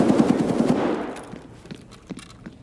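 A 5.45 AK-74M loaded with PP rounds fires a fast, loud automatic burst in Escape from Tarkov, lasting about a second before an echoing tail and a few faint steps and clicks follow.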